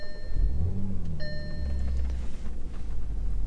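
An Audi S5 with a supercharged engine fires up and settles into a deep, steady rumbling idle close by, with a few chime tones sounding briefly at the start.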